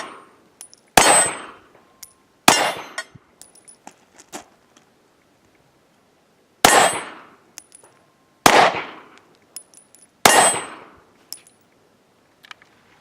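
Five sharp, loud gunshots from a Glock 43 pocket pistol firing ball ammunition one-handed at an outdoor range, spaced irregularly with short ringing decays and faint metallic clinks of brass between shots.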